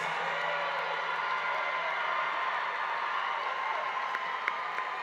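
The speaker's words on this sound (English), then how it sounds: "give the class of 2019 a rousing applause" A graduation audience applauds the class of 2019 at a school ceremony, producing steady, continuous clapping with a little crowd noise, fairly distant and even throughout.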